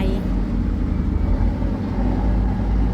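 A generator runs aboard a pontoon boat, a steady low engine drone with a rumbling hum close by, while someone talks over it.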